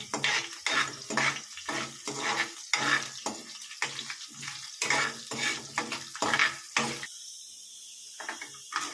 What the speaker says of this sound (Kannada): ಮರಾಠಿ ಮೊಗ್ಗು ಕಾಳು ಮೆಣಸು ಲವಂಗ ಮತ್ತು ಧನಿಯಾ ಕಾಳು ಚೆನ್ನಾಗಿ ಇದನ್ನು ಫಸ್ಟ್ ಫ್ರೈ ಮಾಡ್ಕೋಬೇಕು